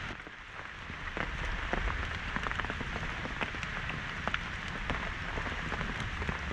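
Steady rain falls outdoors near a fire of burning coals, a dense, even patter with scattered sharper drops striking a surface close by, continuing without pause and with no talking.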